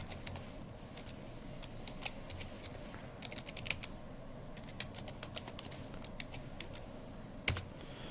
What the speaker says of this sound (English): I type some basic command.